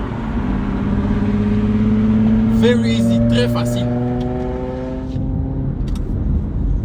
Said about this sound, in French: Excusez pour le bruit, je suis dans la circulation actuellement